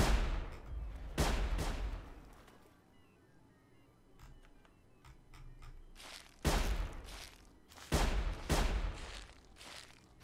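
Gunfire from the video game Sir, You Are Being Hunted rings out in several loud, sharp shots: two early, a few faint ones in between, then two strong reports near the end, with quieter ambience between.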